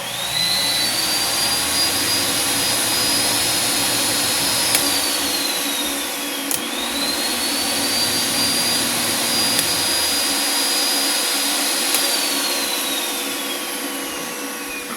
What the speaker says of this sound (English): Let's go ahead and try the saw plus one 5000 BTU window air conditioner.